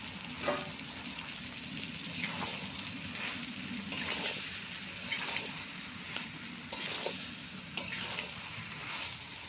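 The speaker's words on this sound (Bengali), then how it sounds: "এবার মাংসটা দিয়ে দিচ্ছে, ভালো করে কষাতে হবে।" Meat sautés in a hot pan as it is browned for a curry, a continuous sizzle broken by repeated scraping stirs every second or so, close and fairly loud with no talking.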